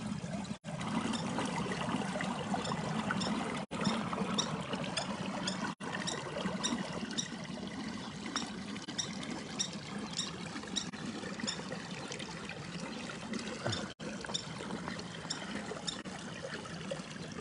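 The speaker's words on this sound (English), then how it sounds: "This is the noise, the water flow here, heading into this little drain." Water from an infinity pool runs into a small drain, giving a steady, close trickling and gurgling wash that continues unbroken, with no voices over it.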